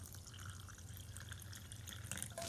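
Water poured from a tap or jug into a jar holding white vinegar, a steady splashing, trickling fill that carries on close and fairly quiet, with faint dripping toward the end.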